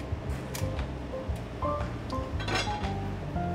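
Metal cocktail strainer clinking against a mixing glass while preparing a rum drink over ice, a few light, bright chinks and taps close up amid soft handling noise.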